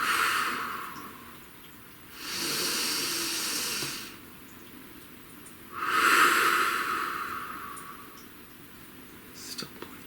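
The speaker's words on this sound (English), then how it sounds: "Please take a nice deep breath." Slow, deep breaths: two long airy inhales and exhales, each lasting about two seconds, heard close and quiet against a calm, hushed background.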